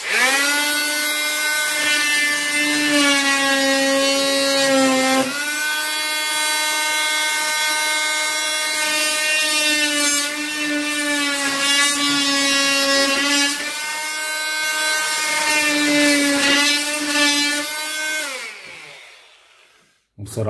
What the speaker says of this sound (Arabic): هنجرب نقطع بيها الخشب